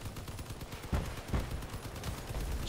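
Rapid turret gunfire in the Crossout vehicle combat game: a dense, steady stream of loud, closely spaced shots with a few heavier thumps, heard alone.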